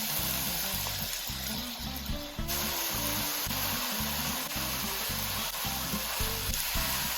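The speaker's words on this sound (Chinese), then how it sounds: "一直炒到牛肉变色，这时候加入蘑菇，继续翻炒到蘑菇变软。" Beef and mushrooms sizzle and crackle steadily in a pan, with repeated scraping and clattering strokes from stirring throughout, close and fairly loud with no voices.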